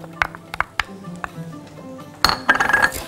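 A spoon clinks against a pan as tomato sauce goes in for a vegetable paella, sharp scattered taps followed by a quick cluster of metallic scrapes and rattles.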